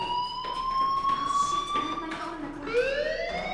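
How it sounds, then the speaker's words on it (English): A fire alarm rings in the video game Life is Strange, sounding as a loud, piercing electronic tone that wavers and restarts with a rising sweep. It carries over faint background room noise. "Hey, do you hear that fire alarm?"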